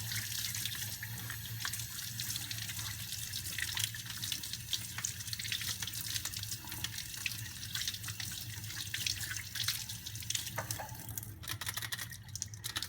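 Steady running water from a sink tap splashes continuously over a printing roller as ink is rinsed off, a close, constant rushing flow with small drips and clatters and no voices.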